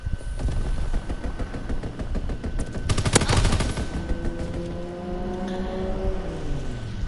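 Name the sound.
enemy strafing run gunfire in Call of Duty WWII video game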